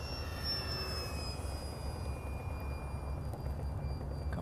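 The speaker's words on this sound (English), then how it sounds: "I really enjoy flying these warbirds." A radio-controlled FW 190 warbird model airplane with electric retracts flies overhead, giving a steady, moderately distant drone with thin high whines that slowly fall in pitch as it passes.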